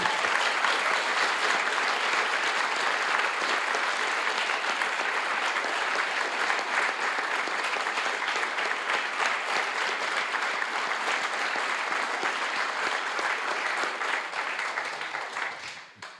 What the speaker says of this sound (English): So the biggest round of applause for you.